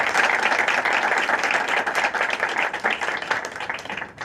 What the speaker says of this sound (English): So first let's give Chloe a round of applause.